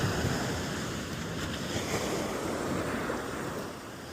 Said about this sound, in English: Hopefully you can hear the thunder as it's coming in these waves